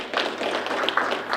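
Short burst of audience applause at a city State of the City address, a brief patter of clapping at moderate volume with no voices.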